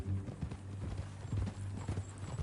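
Horse hooves clip-clopping in Red Dead Redemption 2, a steady rhythmic run of close hoofbeats with no talk over them.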